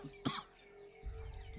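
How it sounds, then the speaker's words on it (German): A single sharp cough bursts out briefly near the mic during a game session, followed by quiet, low background rumble and faint noise. "Ich muss eben mal kurz husten."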